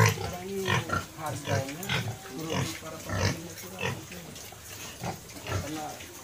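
Pigs on a pig farm in Pontianak grunt close by in repeated short bursts, while people talk over and between the grunts.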